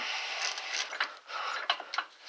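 A bolt is worked loose on the front brake of a Ford Taurus, giving a few close, scratchy ratcheting bursts with short pauses between them and no talking.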